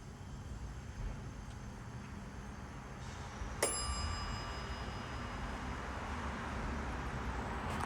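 A Dover traditional hydraulic elevator at Executive Plaza in Bryan, Texas sounds its arrival chime, a single clear ding that rings out briefly over a constant low machinery hum.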